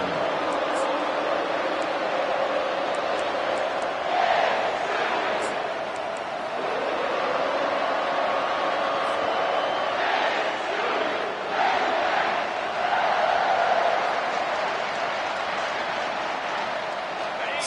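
Stadium crowd roaring in a College Football 25 game, Arkansas against Tennessee, a dense steady wall of cheering with swells of louder noise, while commentators talk over it.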